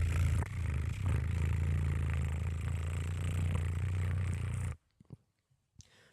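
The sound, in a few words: person imitating a cat purring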